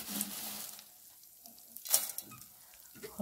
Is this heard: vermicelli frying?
yes